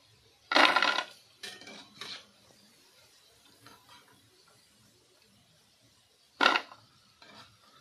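Fried kathi gaja, crispy flour sweets, are lifted out of a pan of oil: a few sharp metallic clanks and scrapes of utensil on pan, with quiet gaps between them and no talk.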